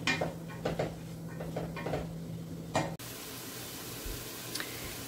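Spices are stirred into a pot of spicy sausage and kale soup, with a spoon knocking and scraping a few times against the pot over a low simmering background, then quieter bubbling.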